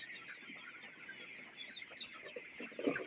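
A flock of poultry-farm chickens keeps up a steady, moderately faint chorus of overlapping clucks, with a louder cluster of calls near the end and no talking.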